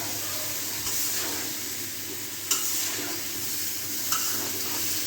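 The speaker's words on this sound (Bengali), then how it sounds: "নাড়াচাড়া করে ভালো মতো মিশাই দিতেছে" Bottle gourd and potato pieces are stirred and sautéed in a hot pan, with a steady sizzle throughout and a couple of sharp scraping knocks from the spoon against the pan.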